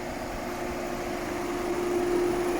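A 2014 Toyota Vellfire 2.4 Z G-Edition engine idles with a smooth, steady low hum and a faint whine, quiet and even throughout with no talking.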